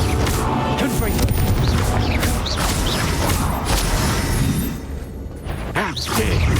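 A Confringo fire spell bursting in the video game Hogwarts Legacy, a loud, dense blast with rumbling debris and whooshing magic effects, a brief dip, then more crashing sound.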